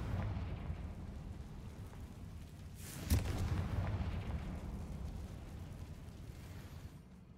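A Confringo fire spell explodes in Hogwarts Legacy, one sharp boom rising briefly out of a low, steady rumble of background game noise, with no talk.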